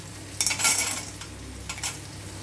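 Sesame seeds and roasted peanuts fry in a pan amid a dry sizzle, with a couple of bursts of stirring and scraping from a spoon against the pan, close by with no voices.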